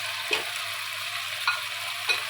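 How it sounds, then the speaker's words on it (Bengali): Chicken wings frying in a pan with soy sauce and garlic give a steady, loud sizzle throughout, broken by three soft scraping stirs of a utensil through the pan. "দিয়ে একটু সুন্দর করে করে নাড়াচড়া করে এগুলোকে মিশিয়ে নেব"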